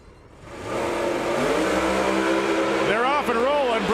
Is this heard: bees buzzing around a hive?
no